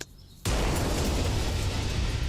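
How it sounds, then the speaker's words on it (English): A sudden explosion bursts in after a brief quiet moment, then a loud, sustained roaring rumble fills the rest of the stretch without letting up. "Or a fist bump that ends in an actual explosion?"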